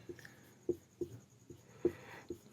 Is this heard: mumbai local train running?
no